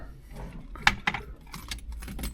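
Car keys for a 1969 Oldsmobile 98 convertible jangle in a hand: a few bright, brief metallic clinks close up, with light rustling between them.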